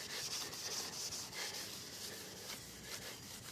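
A microfiber cloth wipes oxidation remover off a surface, giving steady close rubbing and swishing strokes that continue without a break, with no talking.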